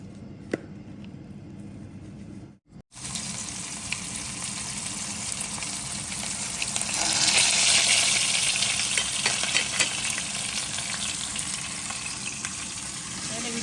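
Thai fermented fish (pla som) fries in hot oil, a close, busy sizzle and spatter that swells louder partway through after a brief silent break, continuing steadily to the end.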